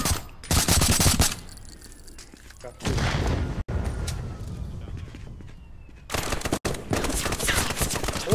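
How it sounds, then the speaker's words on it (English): Gunfire in the VR shooter game Contractors, with loud bursts of rapid shots near the start, middle and end, separated by quieter stretches and occasional sharp cracks. "I hear gunfire"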